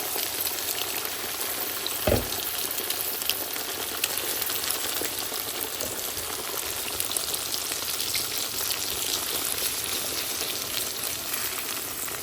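Eggs poured into a hot pan for a predawn Ramadan meal fry with a loud, steady crackling sizzle throughout, broken once early by a sharp clack, with no talking.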